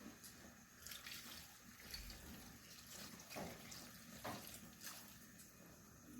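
Water pours from a tap or is pouring into a pan of kinamatisang malaga, a simple tomato dish cooked with a little oil, a steady close splashing and rushing with brief louder surges and no talking.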